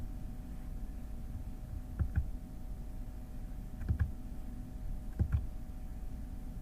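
Keys clack on a computer keyboard in three short, quiet clusters of a couple of taps each, spaced about two seconds apart over a low steady room hum, with no talking.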